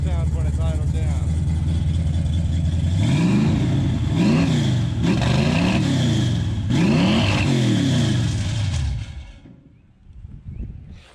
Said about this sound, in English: I just figured, you know, you'd rev it up a couple times and just let it run for a minute.